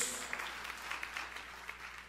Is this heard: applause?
yes